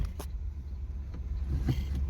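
A 1964 Chevy Corvette or 1968 Pontiac GTO classic car rumbles steadily at close range as it is driven slowly into a garage, a low engine drone with a few brief clicks and knocks.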